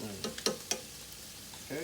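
Beef and broccoli stir-fry sizzles faintly in a pan, with a few sharp clicks of utensils stirring against the pan, close and quiet.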